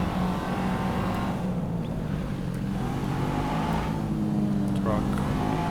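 A red sports car drives at high speed, its engine droning steadily with rumbling tyre and road noise in a close interior perspective, while someone talks over it.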